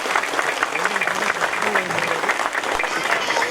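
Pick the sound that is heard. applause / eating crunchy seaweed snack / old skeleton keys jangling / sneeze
applause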